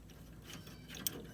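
Quick, faint ratcheting clicks from a wrench loosening a bolt on the brake of a zero-turn lawnmower, a short close burst ending in a sharp tick.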